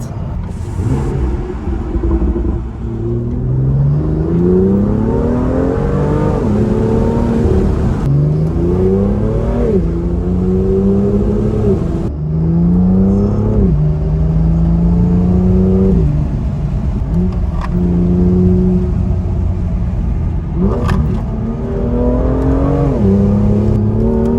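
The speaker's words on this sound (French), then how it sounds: "Le downshift est dingue." A 2017 BMW M2 with a DKG dual-clutch gearbox revs hard through repeated climbing engine pitches, each broken by a quick shift, with loud close engine roar and crisp downshift blips and no talking.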